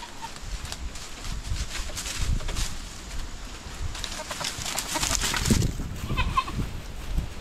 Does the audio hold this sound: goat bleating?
yes